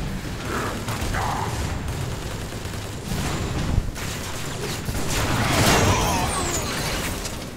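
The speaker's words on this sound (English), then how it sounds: "Oh, shot a secondary weapon." Secondary weapon gunfire in the video game War for Cybertron, dense bursts of rapid mechanical shots and impacts over constant noisy game sound, loud and continuous with several sharper blasts.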